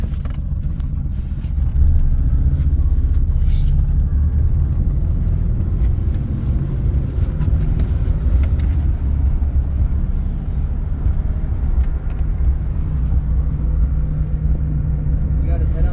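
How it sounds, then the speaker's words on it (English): Inside a moving car carrying a dog, a steady low road rumble and engine drone fill the cabin, with a voice speaking over the ride noise. "Today is Windsor's car ride day."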